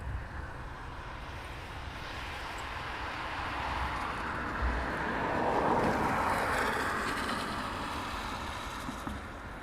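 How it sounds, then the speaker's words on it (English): A military transport aircraft at RAF Brize Norton making a quiet, distant broad roar that swells toward the middle and then eases, mixed with wind noise. "It's amazing how quiet that aircraft is."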